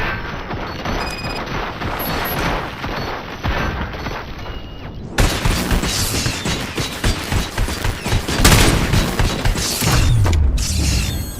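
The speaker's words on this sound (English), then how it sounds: "Fire at will." Sustained gunfire and mechanical clatter from the RoboCop: Rogue City shooter game, dense bursts and heavy impacts running continuously at close range, growing louder and busier after the midpoint with no talk over it.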